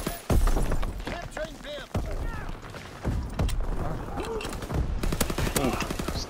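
Rapid bursts of submachine gun fire crackle through a video game firefight, dense and loud, mixed with other shots, impacts and game effects while a player talks over the action.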